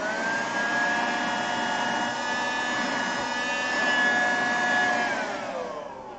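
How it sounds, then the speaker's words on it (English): A vacuum cleaner runs continuously to pick up pastel dust, a loud steady whine with a high motor tone that shifts slightly in pitch near the end, heard alone without talk. "I've got to get my my vacuum cleaner"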